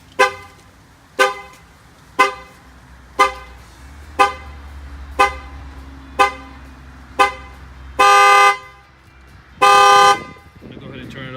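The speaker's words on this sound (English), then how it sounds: "This alarm will probably ring for like 4 minutes." Chevy Silverado truck alarm sounding its horn in regular loud honks about once a second, eight short blasts and then two longer ones, heard close up.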